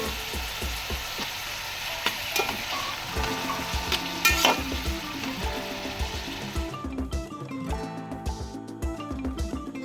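Onions and tomatoes frying in a pan for a green chicken curry: a steady close sizzle with repeated rhythmic scrapes of a spoon stirring, and the sizzle quieting near the end.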